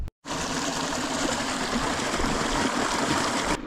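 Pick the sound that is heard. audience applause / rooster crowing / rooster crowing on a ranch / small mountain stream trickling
small mountain stream trickling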